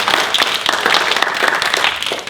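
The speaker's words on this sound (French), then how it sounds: "donc applaudissez pour vous-même." An audience claps for itself at a French-language cultural talk, a loud dense round of applause with individual sharp claps, sustained throughout.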